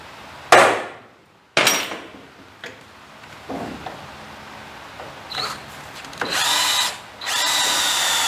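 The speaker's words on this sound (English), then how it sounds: "I'm gonna drill a 1/4-inch hole in this rivet." A power drill bores a quarter-inch hole into a rivet on a Mustang II suspension in several short bursts, the motor whining up sharply and then trailing off, with brief pauses and clicks between runs.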